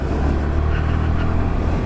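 A Yamaha R15 V3 BS6 motorcycle engine drones loud and close while riding, a sustained low throaty note holding steady through the short stretch.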